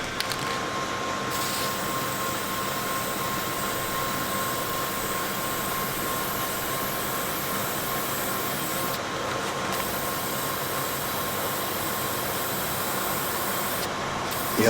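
Wrinkle paint is sprayed in heavy cross-hatched coats onto an E-11 blaster outdoors in wind, a loud continuous aerosol hiss close by with only brief gaps.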